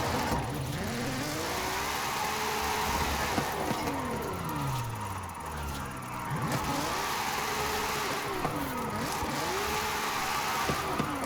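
A tuned all-wheel-drive drift-build car in Forza Horizon 5 revs hard, engine pitch sweeping up and down through repeated gear changes, loud and close.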